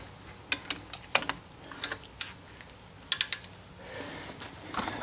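A torque wrench with a 14 mm socket tightens the caliper bracket bolts on a 2006-2012 Ford Fusion's front brakes, giving a quiet series of sharp, close metallic clicks in irregular bursts.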